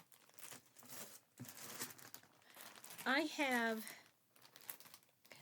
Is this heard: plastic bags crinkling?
yes